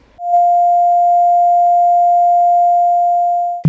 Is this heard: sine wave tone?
yes